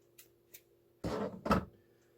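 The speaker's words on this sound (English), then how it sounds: "I'm going to cut off that little extra tail there that we were holding" Two quick snips of scissors trim a thread tail at an Adler Class 15 clone sewing machine, close and fairly quiet, a half-second apart after a couple of faint taps.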